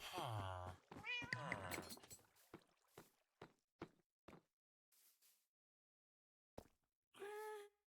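A Minecraft cat meows in a string of short, close calls, starting loud and drawn out, then becoming brief and sparse with pauses, and ending in one longer meow.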